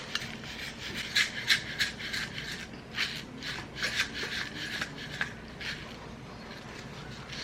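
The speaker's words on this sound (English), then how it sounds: "This jar is broken though, so I will hold it as I shake it." Homemade laundry detergent powder shaken in a broken latching jar held by hand, a quiet rhythmic series of gritty swishing rubs, several bursts close by with no talk.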